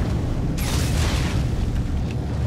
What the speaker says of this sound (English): Oh, that's a canister of explosive that you should probably throw at that thing. Wait. Oh, it blew it up on me.